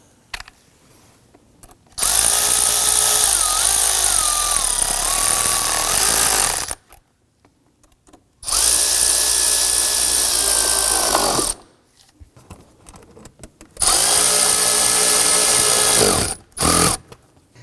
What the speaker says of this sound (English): let's go ahead and tighten down the 3 clamps